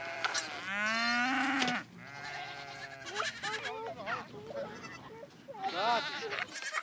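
Sheep and goats crowd toward grazing in a desertified landscape, bleating repeatedly with loud, close, overlapping wavering calls, while a voice speaks among them.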